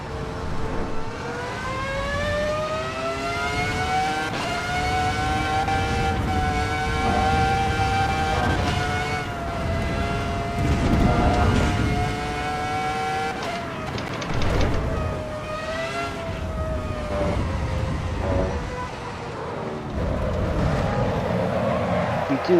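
A Formula 1 car in the Assetto Corsa EVO racing game, drifting around Mount Panorama with a loud, sustained high-pitched engine whine that rises and falls as the revs change, running continuously for over twenty seconds.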